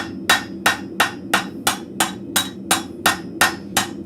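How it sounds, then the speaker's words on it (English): The flat face of a cross peen hammer strikes a steel arrowhead at a blacksmith forge, eleven evenly spaced, sharp ringing blows, light and close, heard alone. "I'm just using the flat side of my hammer"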